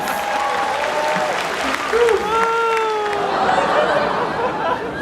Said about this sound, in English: Let's give Iris a little round of applause.